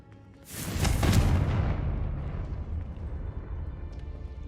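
A spell in the Hogwarts Legacy video game blasts objects apart with a single loud, booming burst that swells quickly and then trails off into a long rumbling decay, with no voices over it.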